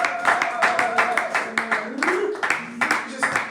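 An audience at a press conference claps in uneven bursts, fairly close and loud, with a voice sounding over the claps.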